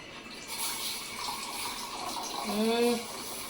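Water poured into milk in a home kitchen, a steady splashing pour running throughout, loudest near the end.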